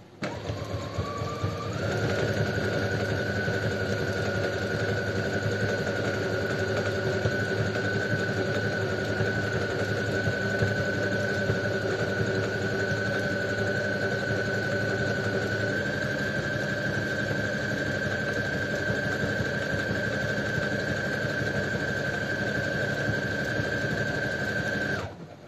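A sewing machine stitches a tight zigzag around a window opening on a pink handbag, running steadily with a continuous whirring hum and fine rapid needle chatter, close by, without talk.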